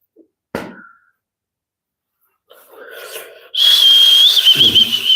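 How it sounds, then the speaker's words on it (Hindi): Someone whistles a loud, sustained, wavering tone close by for the last second and a half, after an earlier sharp click and some soft breathy rustling. "सीटी मत मारो"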